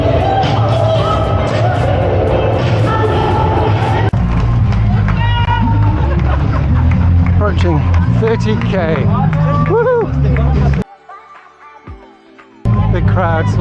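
Crowds cheer and chatter along the Paris Marathon course near the 30 km mark, a steady wash of voices and whoops heard close around a runner who also speaks, cutting out briefly near the end before the noise returns.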